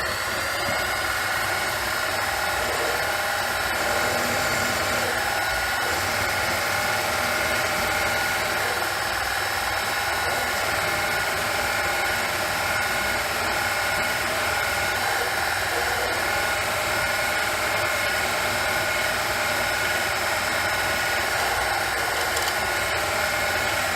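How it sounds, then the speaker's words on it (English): Metal drilling then reaming of a hole for a horizontal steam engine part on a machine, a continuous loud motor whine and grinding hum with steady vibration, running without pause and with no talking. "And after that we run the reamer through her."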